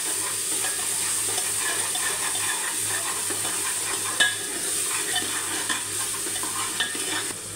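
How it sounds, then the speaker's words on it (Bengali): A pan of ginger-garlic paste and spices being stirred while it sizzles steadily, with a constant frying hiss and occasional scrapes of the spoon. No one speaks. "এখন কিছুটা নেড়ে নিই।"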